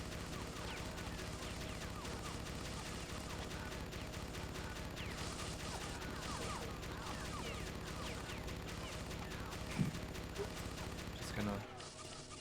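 Slig gunfire in Oddworld: Munch's Oddysee, a steady, dense rattle of rapid shots running throughout alongside game ambience and a few louder impacts near the end.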